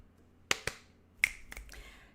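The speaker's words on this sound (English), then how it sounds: "were you just snapping your fingers at yourself to go faster with the questions?" Several sharp finger snaps land at irregular intervals, crisp and fairly quiet, with near silence between them.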